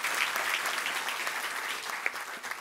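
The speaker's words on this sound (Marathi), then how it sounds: "त्यासाठी एकदा जोरदार टाळ्या." Loud, sustained applause from a seated audience at a formal ceremony honouring volunteers, steady throughout with no speech over it.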